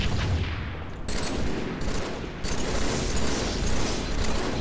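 Gunfire in a Halo game comes as a dense, continuous stream of rapid automatic fire, loud and close, with brief dips as bursts restart.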